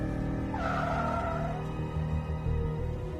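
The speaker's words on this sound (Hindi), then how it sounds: "फैज गाड़ी रोको।" A car brakes hard to a stop, and its tires give a rising squeal over a steady engine rumble that settles into a low idle.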